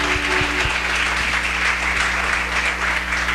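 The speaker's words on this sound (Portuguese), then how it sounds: "aplaudir ao Senhor?" Church congregation applauding during a Sunday celebration service at Igreja Renovar, a steady dense wash of clapping from a large crowd over a low electrical hum, continuous throughout with no talk.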